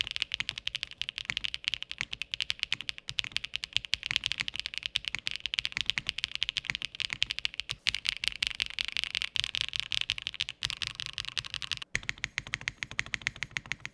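Palm typing on a Zoom75 TIGA mechanical keyboard: a steady, close stream of rapid clacking keystrokes lasting the whole stretch, dense and continuous with no voices.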